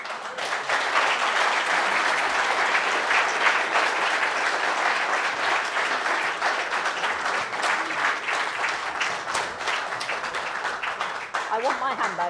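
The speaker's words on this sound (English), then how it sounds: "Can we just have another round of applause for Anne?" Sustained applause from an audience after a speech at the Savoy Hotel: a dense, even wash of many hands clapping at strong level, thinning slightly near the end as a voice begins.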